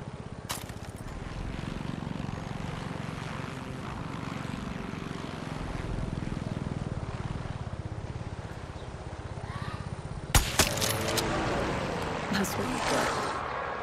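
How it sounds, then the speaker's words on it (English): Helicopter in the Far Cry 6 video game, a continuous loud rotor and engine drone throughout, with a sharp burst of gunfire or impact near the end. "I think I should try to take this out because that helicopter is gonna be annoying."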